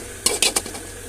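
A spoon stirs chicken and vegetables in a pan while chicken chowmein is being made, giving three sharp metallic clanks in quick succession, then a quiet tail.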